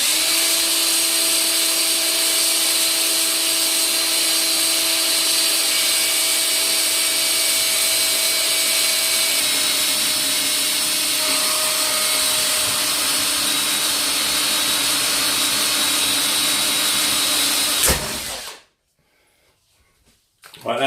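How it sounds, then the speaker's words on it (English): A power drill bores a hole through a caravan panel to mount a solar panel, a loud steady whine running continuously for about eighteen seconds before cutting off abruptly into near silence. "just get the drill bit in, start it off. Once you've got a little bite there, just go over it and just drill the..."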